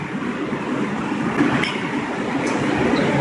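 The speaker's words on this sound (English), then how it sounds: "Here goes a train going by." A train rolls past close by, a steady broadband rumble and rush holding level throughout, with faint clanking and squeals over the top and no voices.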